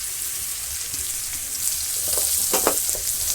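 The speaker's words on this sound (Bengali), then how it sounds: "এটাও ভাজা হবে তার পেঁয়াজটা আস্তে আস্তে করে ভাজা হবে" Onion fries slowly in oil alongside potatoes in a village kitchen, a soft steady sizzle with a few louder spattering pops near the end, no talk.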